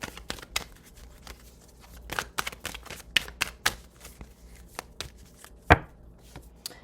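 Tarot cards shuffled and pulled by hand: a quick run of crisp card snaps and riffles, close and fairly loud, ending in one sharper slap.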